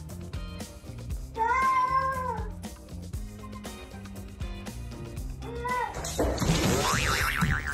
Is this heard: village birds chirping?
no